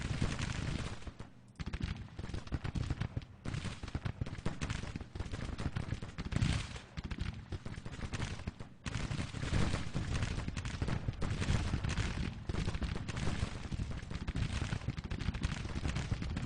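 Massed rifle fire from Union troops in a Civil War battle in Grand Tactician, a sustained crackling fusillade of many overlapping shots with heavy low rumble, steady and loud throughout with brief lulls.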